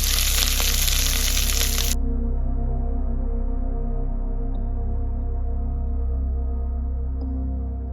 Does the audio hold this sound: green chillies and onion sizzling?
yes